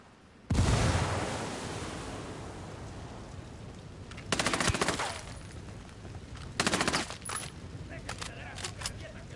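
In Ghost Recon, a thrown frag grenade detonates in a loud, close blast that rumbles and decays over several seconds, followed by rapid bursts of automatic gunfire.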